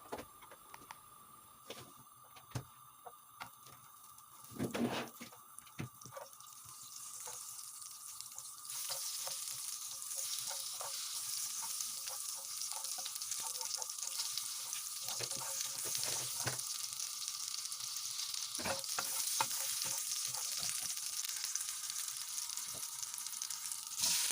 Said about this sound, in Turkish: Tavamıza biraz tereyağı koyuyoruz.